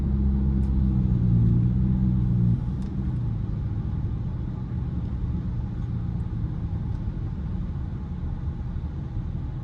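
Car engine rumbling steadily from inside the cabin on a rainy drive, a louder low surge in the first couple of seconds easing into a constant road-and-engine drone with faint hiss of wet tires.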